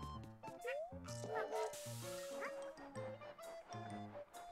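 A cartoon puppy yips and barks in short bursts over bouncy background music in a Yoshi video game demo.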